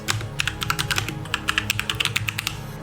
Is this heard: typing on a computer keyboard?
yes